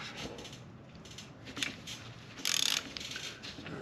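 Ratchet wrench loosening the lug nuts on a rear wheel, a few quiet clicking bursts and one brief rapid ratcheting run, fairly close with little else around.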